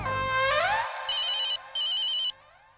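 A phone rings with an incoming call from the boss, sounding as two bursts of bright electronic ringtone after a short musical sting, close and clear with no voices.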